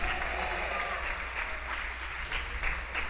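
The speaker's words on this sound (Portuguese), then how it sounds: "Vamos aplaudir esta palavra." A church congregation claps steadily throughout, a dense, even wash of many hands at moderate volume with a low hum underneath.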